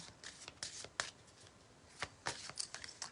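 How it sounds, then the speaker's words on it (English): Oracle cards are shuffled by hand, giving soft, quick papery riffles and flicks in irregular bursts, quiet and close with no talking. "Let me just give them a little shuffle."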